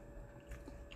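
Someone chews and bites into a fish taco at a Las Vegas taco stand, with soft, close, wet crunching in a brief burst over faint room noise.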